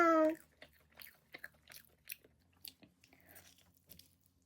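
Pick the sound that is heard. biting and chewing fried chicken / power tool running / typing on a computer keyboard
biting and chewing fried chicken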